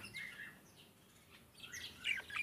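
A pair of lace parakeets calling inside a cage, giving faint, scattered squawks and chirps in a few short bursts, with the strongest calls near the end.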